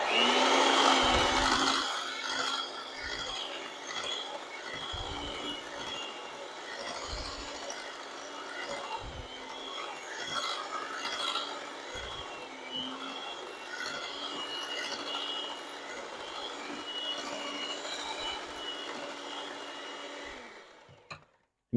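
Cheesecake batter being mixed, likely by an electric mixer: a continuous whirring, scraping drone runs for about twenty seconds at moderate level, with small knocks against the bowl, before it cuts off.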